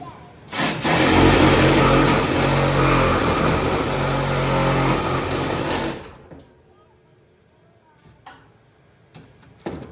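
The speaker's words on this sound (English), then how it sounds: "Got the Sawzall. Let's go ahead and get this out of the way." A Sawzall reciprocating saw cutting through a trailer deck, a loud, close, continuous buzzing rasp lasting about five seconds before cutting off, followed by quiet handling clicks.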